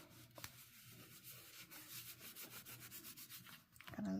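A folded paper card being rubbed firmly along its crease, a close, quiet, continuous scratchy swishing in quick back-and-forth strokes, alone without talk.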